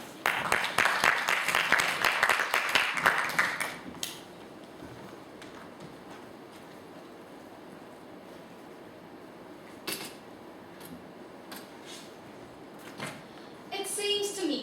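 Audience applause for a contestant at a middle school English speech competition, a loud burst of clapping for about four seconds that then stops, followed by quiet room tone with a few faint knocks.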